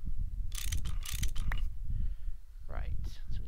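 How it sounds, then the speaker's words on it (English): An electric wrench is used in the Minecraft modpack FTB Beyond, with bursts of mechanical whirring and ratcheting, a short clanking tool sound and a rising electronic sweep, while a person talks over it. "I need my electric wrench."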